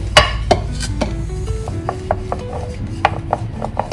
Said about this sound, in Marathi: हळूवार हाताने आपल्याला चपाती लाटायची आहे